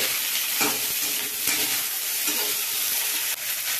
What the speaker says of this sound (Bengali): সবজিগুলো দিয়ে একটু ভাজা করে নেব।